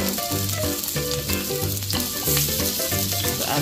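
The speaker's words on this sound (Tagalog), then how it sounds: "Lagyan natin ang ating sibuyas at bawang" Onion and garlic fry in hot oil in a pan, making a continuous, fairly loud crackling sizzle that never lets up. Steady tonal sounds run underneath, and no one speaks.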